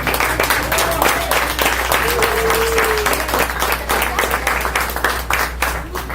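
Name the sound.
congregation applauding in church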